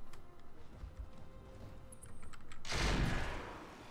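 Heavy mech weapons fire in the game Roguetech, a dense loud burst of impacts and explosive blasts swelling midway after a stretch of lighter rumbling shots.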